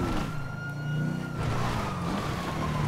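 A police car siren wails steadily in the Grand Theft Auto V video game, loud and continuous alongside a low engine hum.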